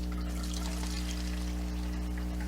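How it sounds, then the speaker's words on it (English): Regular gasoline is poured into the fuel tank of an old Homelite generator, a close, steady liquid pour over a low constant hum, with no talking. "just take some regular gasoline and just pour it in there"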